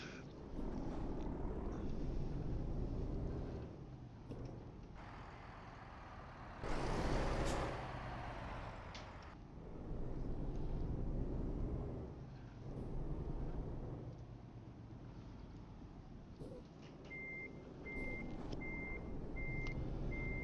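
Reversing beeps repeat in a steady rhythm while an air brake hisses and a truck engine rumbles throughout, all from a heavy truck backing toward a parking spot at an Antwerp unloading dock in Euro Truck Simulator; no one talks.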